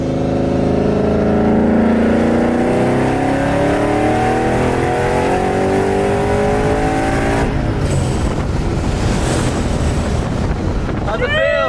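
Supercharged Paxton Mustang pulling at wide-open throttle in third gear, a loud rising engine roar with heavy wind rush that shifts character partway through, with no clear talk.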